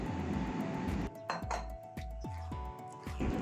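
A spoon scrapes and taps against a metal strainer while working bael fruit pulp through it, giving a series of sharp metallic clinks roughly every half second over a steady background hum, close and fairly loud.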